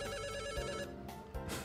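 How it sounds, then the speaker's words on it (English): A phone ringtone plays loudly in a game commentary setting, a bright repeating electronic melody over about a second and a half with no talk over it. "Phone!"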